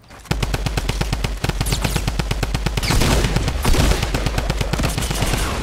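Rapid automatic gunfire in the video game Fortnite rattles in loud, evenly spaced bursts almost without pause, thickening into heavier overlapping shots midway.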